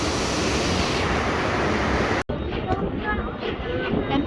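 Steady rumble and rattle of a Georgetown Loop Railroad heritage train in motion in the Colorado mountains, loud and continuous, with a sudden brief cutout partway through before the rolling noise resumes.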